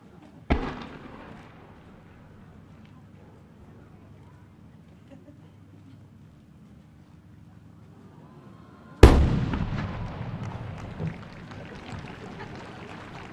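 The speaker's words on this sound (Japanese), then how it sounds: "それではそのメッセージを受けて花火を打ち上げます" Fireworks at the Sanriku fireworks festival: a sharp launch report early on, a long hush, then a heavy boom trailed by lingering crackle and rumble, heard from a distance outdoors.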